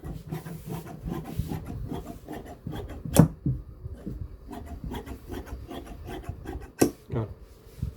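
Fabric is cut along the edge of salwar material, with a steady rasping, scraping texture from close by and a couple of sharper snips standing out, with no talk.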